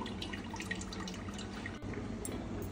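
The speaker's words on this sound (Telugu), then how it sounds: "అంతా తీసేయాలి, తీసి పారేయాలి వాటర్." Water drained from soaked chicken trickles and drips steadily into a sink. Faint and close, with no voices.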